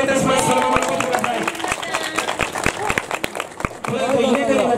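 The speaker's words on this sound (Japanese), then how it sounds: "ちょっとずつバックで拍手お願いいたします" An audience claps in the background at a baseball mascot's rice-harvest event, with scattered sharp claps under a steady crowd murmur and an announcer talking over it.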